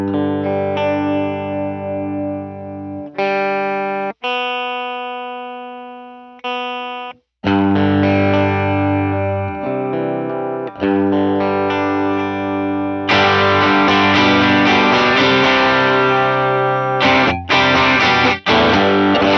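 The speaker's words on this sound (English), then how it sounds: "And this is just what the Cali Texas Channel 1 and the Tweed sound like." Distorted electric guitar played straight through Cali Texas Channel 1 and Tweed amp models with delay and reverb off, loud chords and sustained notes that break off and restart, alone with no talk.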